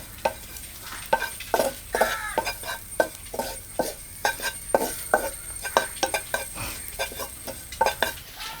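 A spoon scrapes and taps rhythmically in a pan while garam masala and chili powder are stirred in during preparation of chicken kilikkoodu, with many close, distinct strokes over a faint sizzle.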